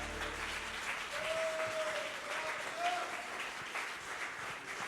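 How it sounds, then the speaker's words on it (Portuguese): Church congregation applauding God during a worship service, a moderate, somewhat distant clatter of many hands, with a faint sustained tone and a low voice briefly underneath. "Você pode aplaudir o nosso Deus."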